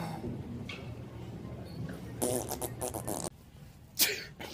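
A single sharp sneeze bursts out close by against a quiet background, followed by a brief smaller noise.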